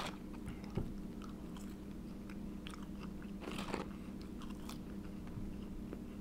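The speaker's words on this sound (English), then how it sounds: "The secret recipe fries I will also be tasting." Crunchy biting and chewing of crispy, lightly salted and seasoned KFC Secret Recipe fries, close up and fairly soft, with irregular crunches over a steady low background hum and no talking.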